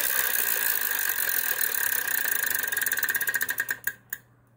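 A Wheel of Fortune wheel spins in a video game, ticking in a fast, steady, loud stream that slows into widely spaced clicks before it stops.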